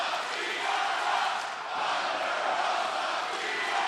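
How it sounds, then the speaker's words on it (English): A vocal wrestling crowd at the MGM Grand Garden Arena before an AEW Double or Nothing event, a dense, steady roar of cheering and shouting voices from many fans filling the hall. "you can hear this crowd very vocal"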